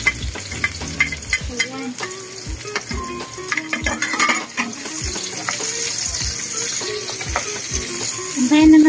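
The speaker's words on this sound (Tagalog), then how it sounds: "Antayin na natin guys na ma-brown siya ng bonggang-bongga guys" Sisig with garlic and onions frying loudly in a pan, a busy, crackling sizzle broken by repeated clacks and scrapes of a utensil against the pan, with a brief spoken word near the start.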